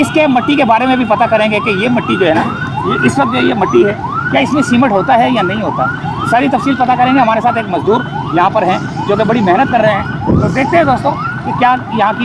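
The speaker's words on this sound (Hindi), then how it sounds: "पीछे एम्बुलेंस की आवाज़ आ रही है क्योंकि ट्रैफिक बहुत ज़्यादा जाम हो रहा है।" An ambulance siren wails continuously in heavy traffic on Jahangir Road, its rapid rising-falling yelp loud and steady throughout while someone talks over it.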